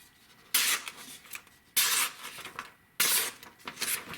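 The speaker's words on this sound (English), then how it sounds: "Let me give it a little cut test." A TWOSUN TS27 pocket knife with a D2 blade slicing through paper, three quick crisp rasping cuts at a steady pace, close and clear with no talk.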